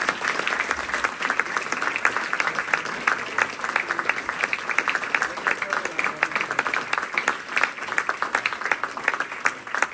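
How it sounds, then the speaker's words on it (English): An audience gives a big, steady round of applause at an instructor promotion event, with dense clapping that keeps going without a break and a few crowd voices mixed in. "Let's have a big round of applause"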